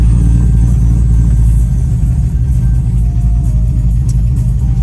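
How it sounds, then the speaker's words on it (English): A truck engine at a farm rumbles loudly and steadily close by, its low idle-and-rev roar filling the whole stretch as it pulls away, with no talk over it. "Okay, let's take the truck."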